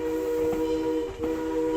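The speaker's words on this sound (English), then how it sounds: "they spotted the first train departing Mendota across the river." A train departing Mendota, heard as a steady, loud horn-like whistle tone with layered pitches, sustained throughout with a brief dip midway, and no talk.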